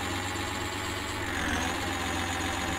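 A tractor engine idles with a steady low rumble and slight knocking in an Indian tractor driving video game, holding constant and loud throughout with no talking.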